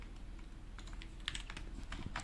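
Quiet, steady typing on a Nufi Field 75 HE keyboard with Gateron White Hall Effect switches, a soft run of light, uneven keystroke clicks at close range with no voices.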